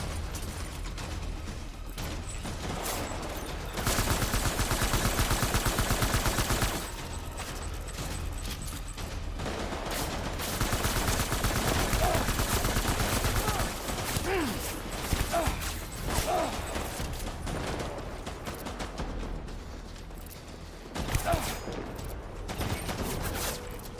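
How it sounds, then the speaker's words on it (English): Gunfire in Death Stranding, a sustained run of rapid shots followed by scattered bursts and mechanical clatter, loud and continuous over a busy combat background. "Open fire"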